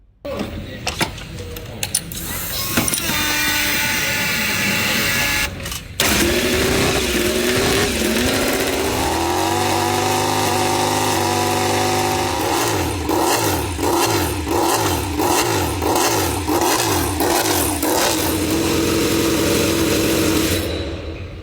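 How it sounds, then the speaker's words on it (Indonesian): A loud Honda RC213V MotoGP racing motorcycle engine revs and blips hard up close, with sharp exhaust bursts and rapid pulsing throttle changes, no talk. "Kita coba dengarkan ya suara ledakan knalpot dari RCV yang dipamerkan oleh HRC MotoGP"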